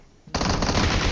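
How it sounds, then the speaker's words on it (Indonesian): Loud, continuous automatic gunfire from the mobile battle royale game PUBG Mobile bursts in after a brief quiet lead-in and keeps hammering without pause to the end. "Lu ngapain nembak nggak jelas-jelas gitu Pak?"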